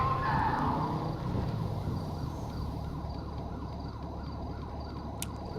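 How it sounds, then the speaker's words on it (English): A police siren in the video game GTA V (Los Santos) sweeps up and down continuously over a low rumbling engine drone, fairly steady throughout with no talking. "I can hear lights, I can hear a siren."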